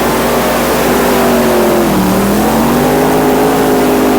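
Powerful tractor-pull engines producing at least 8,000 horsepower roar continuously at a 1986 NTPA pull in Bowling Green, a loud sustained drone whose pitch sags and then climbs again under heavy load.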